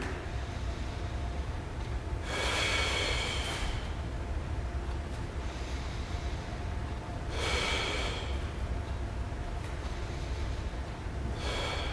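Heavy, rhythmic breathing during a yoga L-shaped headstand with hip extension: two long, forceful breaths stand out against a steady, noisy background, with no talking.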